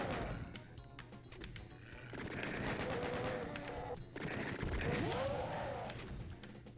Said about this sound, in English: Ah, great, more chain gunners.